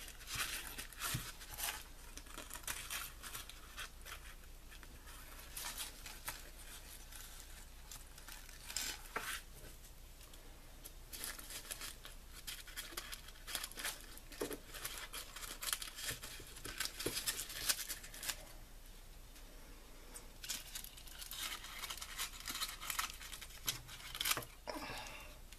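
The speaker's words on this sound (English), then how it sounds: "And for the corners, I'm going to just cut those" Scissors cutting the corners of paper at an angle: a long stretch of soft, close snipping, rustling and crinkling paper sounds with irregular pauses.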